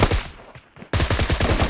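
Rapid automatic gunfire rattles in a battle royale video game, a brief burst, a short lull, then a dense sustained stream of loud close shots with no talk.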